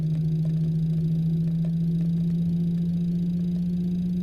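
An airliner's engines spool up during start in Microsoft Flight Simulator 2024, a loud steady low hum with a constant droning tone and faint ticking, no voices.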